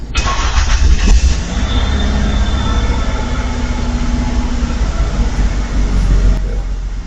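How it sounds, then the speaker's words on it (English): An SUV engine starts and runs, a loud, continuous low rumble that holds steady throughout with no voices. "Definitely sounds like an SUV truck."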